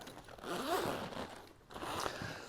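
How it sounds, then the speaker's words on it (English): A zipper is pulled open along the carry bag of a Hydrus inflatable SUP board, two quick close ripping strokes separated by a brief pause, fairly quiet and with no speech. "Zipper, and let's throw it wide open."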